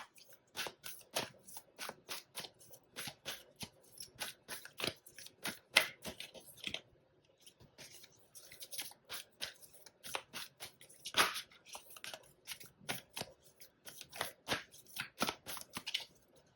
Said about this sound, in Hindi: एक कार्ड और निकालते हैं